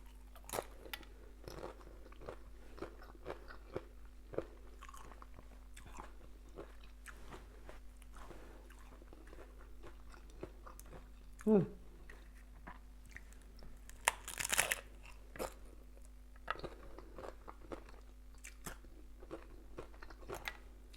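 Close, quiet bites and chewing of crunchy crispy spiced tacos, sporadic crisp crunches over a steady low hum, with a couple of louder crackling bites midway.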